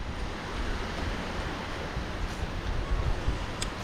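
Waves wash on Caruban beach as a continuous, moderately quiet broadband surf rush with gentle swells in intensity and some wind.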